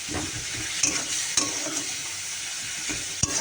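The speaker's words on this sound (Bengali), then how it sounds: "একটু জল দিয়ে কষে নিচ্ছি" Spices being sautéed with a little water and salt in a Bengali home kitchen: a continuous close sizzle and hiss, with a few sharp clinks and scrapes of a spoon against the pan.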